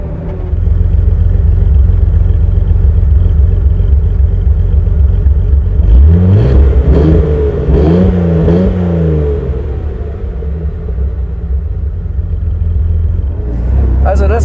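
A 1956 Mercedes 300 SL Gullwing with sidepipes drones loudly at a steady pace, then revs up through several rising and falling pulls around the middle before settling back to a deep rumble. Someone talks over part of it.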